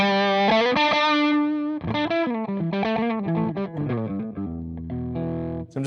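Electric guitar played through a Great Eastern FX Focus Fuzz pedal with the focus control turned up, giving a big, loud, distorted tone with sustained chords and shifting riffs that continue without pause for about six seconds.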